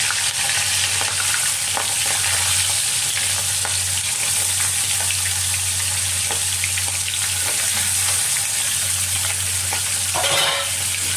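Prawns fry in hot mustard oil with a loud, steady sizzle and crackle that runs unbroken from start to finish, close up and with no voices.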